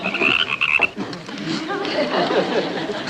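Frogs croak in a spooky Transylvanian-style household scene, a burst of high trilling calls early on, then lower, busier croaking and rustling fills the rest, fairly close and moderately loud with no talk.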